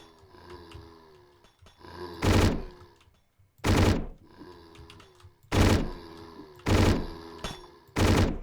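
Enemy gunfire in the video game Hedon: five loud, sharp bursts of shots at irregular intervals, each standing out over a quieter droning backdrop.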